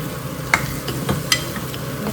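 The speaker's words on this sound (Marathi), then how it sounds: "मिक्स करून घेऊया." A spoon stirs a curry of frozen peas and paste in a kadhai, giving a couple of sharp scraping clinks against the pan over a faint, quiet simmer.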